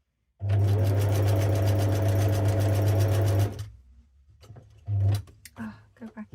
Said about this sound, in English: I'm just going to do a straight stitch all around this to attach her onto here.